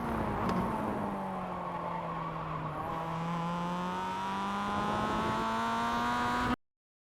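Engine of a Mazda MX-5 race car on the Navarra circuit in iRacing, a steady buzzing drone that dips slightly and then climbs in pitch as it accelerates, heard alone before cutting off abruptly near the end.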